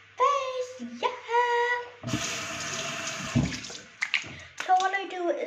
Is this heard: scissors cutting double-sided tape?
no